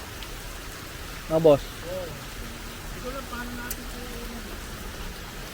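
Steady rain falls at a fishing spot along the river at Binh Quoi, Saigon, a constant wash of noise under brief speech.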